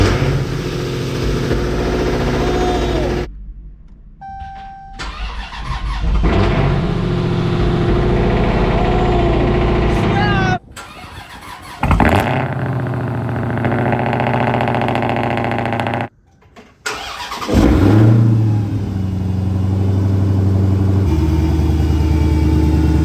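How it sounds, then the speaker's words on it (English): Dodge Challenger Hellcat with a freshly installed replacement engine cranks and fires up, then idles loud and close with several throttle revs rising and falling, and brief cuts between bursts. "this thing's gonna fire up"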